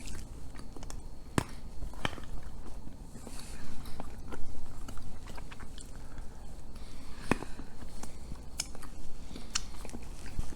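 Chewing on a keto dark chocolate with a coconut filling, steady close-up mouth crunches and soft squishy bites running continuously with no talking.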